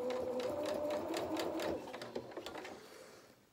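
Sewing machine stitching a dart seam on a toy highland cow head, a close, fast mechanical whir with brief pauses for backstitching before it winds down and stops.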